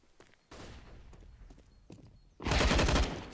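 Gunfire in a Counter-Strike match on the Inferno map: scattered shots and sharp clatter, then a loud, dense spray of automatic fire at the end.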